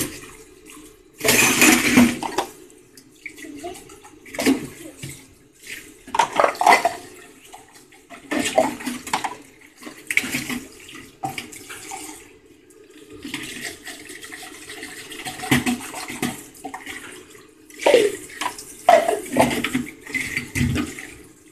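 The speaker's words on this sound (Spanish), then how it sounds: "Ejemplo de desperdicio de agua son las señoras que lavan los trastes." Dishes being washed under a running kitchen tap, with water gushing in uneven bursts and splashing, plus occasional clinks of crockery. No one talks.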